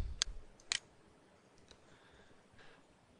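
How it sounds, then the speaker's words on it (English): Two crisp computer mouse clicks, close and quiet, followed by faint lighter ticks against near silence. "simply select the report from the table and click on the Load button"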